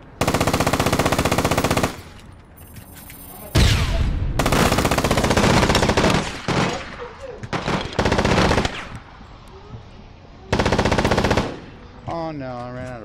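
Machine gun fire in the online shooter APB Reloaded on PS4, loud rapid automatic bursts of a few seconds each separated by quieter gaps, with a voice briefly heard near the end.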